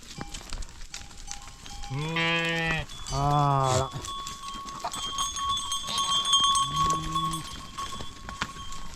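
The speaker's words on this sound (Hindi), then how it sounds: "यहाँ पे बकरियाँ बहुत हैं।" A herd of goats with bells grazing on Bagji Bugyal, a mountain meadow: a few loud, close bleats arrive in separate bursts over faint, steady bell tinkling and open outdoor ambience.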